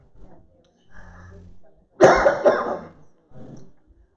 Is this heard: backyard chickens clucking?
no